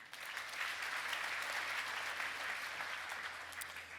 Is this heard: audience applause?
yes